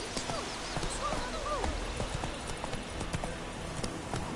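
Hooves clip-clop at a fast, steady gallop as the horse Roach runs in The Witcher 3, close and rhythmic, with faint snorts from the horse.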